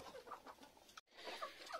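Caged hens on a hill farm cluck and call in short, close bursts, with a brief silent gap midway before the clucking resumes.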